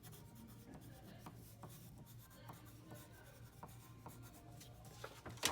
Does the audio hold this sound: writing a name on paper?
yes